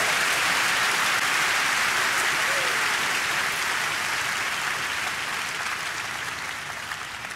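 A church congregation applauding loudly during a French-language service, a dense, continuous wash of clapping that starts strong and slowly tapers off toward the end.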